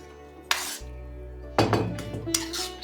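Chana gravy with whole spices being stirred in a pot, a spoon clinking and scraping against the metal in a few distinct knocks over a low steady hum.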